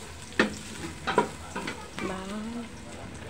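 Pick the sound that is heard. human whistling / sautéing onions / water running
sautéing onions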